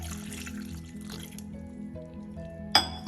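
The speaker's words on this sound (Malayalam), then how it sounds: "വേവാൻ ആവശ്യമുള്ള വെള്ളം" Water poured into a pan of chopped drumsticks with turmeric and salt gives a faint trickling splash, followed by two sharp clinks of a utensil near the end.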